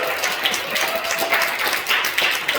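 Congregation at a Friday prayer service at a Korean church clapping in celebration of a member's promotion, a dense, steady wash of many hands applauding throughout.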